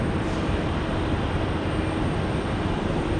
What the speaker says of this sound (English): Sounds like our Delta A220 might be on the move.